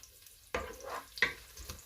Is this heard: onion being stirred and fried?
yes